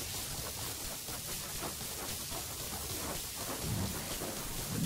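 A lightning spell in Blade and Sorcery unleashes a dense, roaring rumble of thunder mixed with hissing rain-like crackle, loud and sustained with a heavier low surge near the end.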